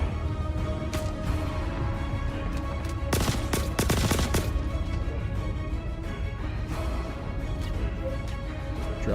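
Gunfire in Star Citizen, a few isolated shots early, then a dense burst of rapid automatic fire in the middle, heard over a constant low game ambience with no talk.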